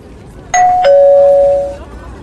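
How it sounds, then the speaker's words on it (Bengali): A doorbell chimes once, a clear two-tone ding-dong that rings out loudly and fades over about a second. "গ্রিল গেট পেরিয়ে কলিং বেল টিপলেন বিশ্বজিৎ"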